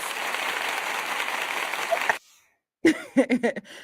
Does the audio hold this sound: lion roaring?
no